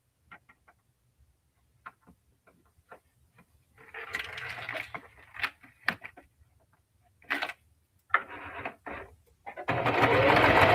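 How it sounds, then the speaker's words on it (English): A sewing machine stitches fabric for a small zipper coin pouch. Short, scattered bursts of running give way to a steady, close whir at the end, with no talking. "I'm going to sew straight over that"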